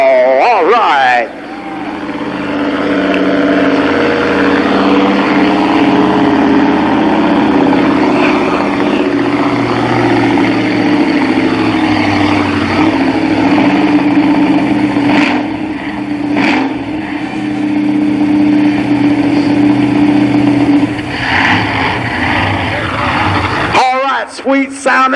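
A Chevrolet 454 big block engine in the monster truck Hercules roars loud and sustained at a 1991 Columbus Motor Speedway event, holding a steady deep drone for about twenty seconds before cutting off abruptly.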